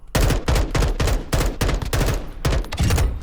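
An M4 rifle fires on automatic in WarZone 2.0, a loud, close run of bursts with about nine sharp, rapid reports in quick rhythm and no talking over them.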